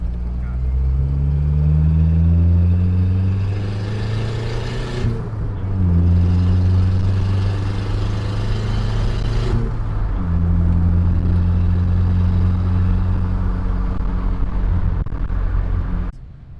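A turbocharged Volkswagen Jetta engine pulling hard while driving, loud and close from inside the car, revving up through several gears with rising whine and short pauses at each shift, a voice talking over it.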